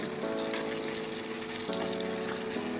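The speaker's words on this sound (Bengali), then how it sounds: "পকোড়াগুলো বেশ ভাজা হয়ে গেছে।" Pumpkin pakoras sizzle in hot oil, a steady dense crackle that fills the whole stretch without pause, with a low tonal hum beneath and no talking.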